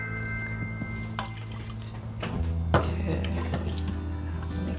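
Water poured into an Instant Pot Duo Nova over rice, garlic, oregano and paprika, a soft trickle and splash with a few light clinks, close and fairly quiet.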